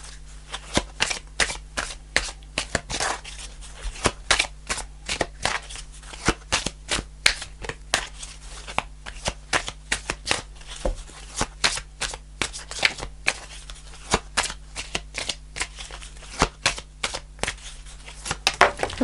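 Tarot cards are shuffled close by, a long run of quick crisp riffling slaps and flicks in uneven bursts, with no talking.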